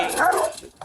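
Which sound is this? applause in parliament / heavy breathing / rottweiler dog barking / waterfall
rottweiler dog barking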